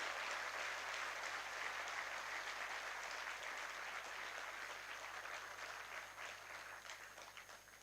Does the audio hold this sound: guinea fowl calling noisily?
no